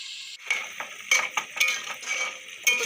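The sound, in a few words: pot lid placed over jackfruit curry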